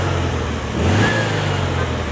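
A 1959 Volkswagen Beetle drives past, its air-cooled engine swelling to a brief peak near the middle and then fading under steady road and wind noise, fairly close.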